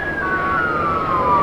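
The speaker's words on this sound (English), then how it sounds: "as I say every time we hear these sirens" A loud emergency vehicle siren wails during a street parade, its tone sliding slowly downward, with a second siren tone layered underneath and low traffic rumble.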